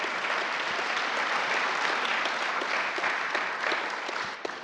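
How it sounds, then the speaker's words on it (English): An audience at an annual meeting breaks into steady, dense applause that holds evenly for several seconds and tapers off slightly at the end. "I think that deserves a round of applause as well."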